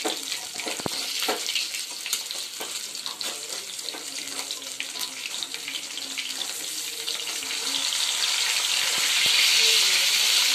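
Mustard fish pieces frying in hot oil in a kadai, a continuous dense hiss and crackle that swells louder toward the end, close up, no voices.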